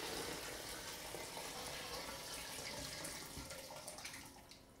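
Chicken bone broth is poured from a pot into a bigger bowl with a big lip, giving a steady, close rush of splashing liquid that tapers slightly toward the end.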